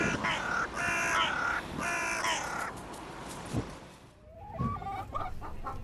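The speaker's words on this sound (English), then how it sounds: "The word cluck refers to the short, low sound that a chicken makes." Chickens cluck in quick bursts while a rooster crows loudly, followed by scattered softer clucks and barnyard noise.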